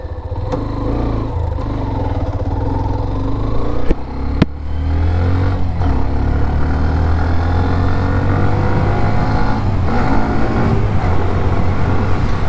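A 2024 Hero Xtreme 125R motorcycle engine revs and accelerates steadily toward 60 km/h, its droning pitch rising and holding, loud and close with a couple of brief knocks early on.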